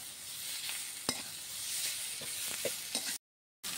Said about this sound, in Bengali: আলু দিয়ে আর মশলা দিয়ে আবার কিছুক্ষণ কষিয়ে নিতে হবে।